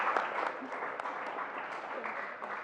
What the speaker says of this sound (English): Keep on clapping for her.